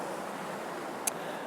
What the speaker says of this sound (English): some rocks just out by themselves in the water with some waves crashing over them